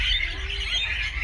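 A small bird chirps and tweets while being fed on the western shore of Guadeloupe, a faint, brief run of high calls over low background hum.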